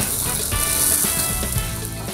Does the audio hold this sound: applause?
no